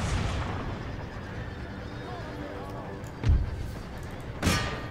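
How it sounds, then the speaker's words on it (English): Artillery firing canister shot in the Empire Total War video game: two deep booming blasts a second apart over a steady low battle din. "Artillery canister shot the provincial cav."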